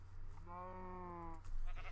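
A single sheep in the video game Minecraft gives one drawn-out bleat near the middle, standing out clearly over a steady low background hum, followed by other faint game sounds.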